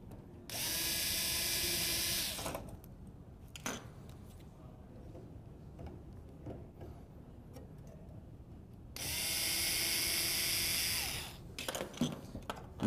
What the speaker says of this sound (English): unfasten 2 screws